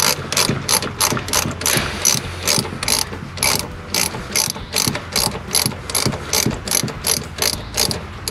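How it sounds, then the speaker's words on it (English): Repeated rapid ratchet clicking while loosening a fuel system clamp on a 1995 Dodge Ram 2500, close and loud, in regular bursts of ratcheting strokes with brief pauses between them. "I need to loosen that clamp more, I guess,"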